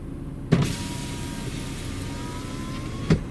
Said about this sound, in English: just listen out for the window going down